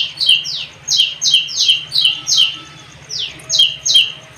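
A tiny bird about two inches long squawks in a quick series of about nine harsh, rising calls, loud and close, spaced fairly evenly with brief gaps, over faint background hum.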